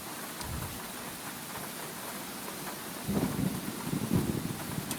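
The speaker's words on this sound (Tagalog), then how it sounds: "So, umuulan din sa loob." Steady rain hisses throughout a shawarma kiosk video game, and low rumbles of thunder roll in around the middle and near the end, with no talking over it.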